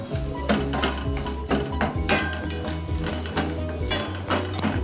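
Foxtail millet and moong dal dry-roasted in a kadai, with repeated metallic scraping and clinking of a spoon against the pan in an irregular rhythm, close and fairly loud.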